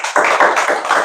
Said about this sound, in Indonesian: Tepuk tangan buat cewek.